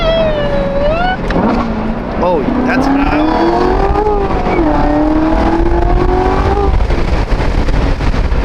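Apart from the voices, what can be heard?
Corvette supercharger building up while accelerating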